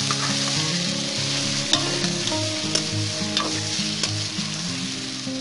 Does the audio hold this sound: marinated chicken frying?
yes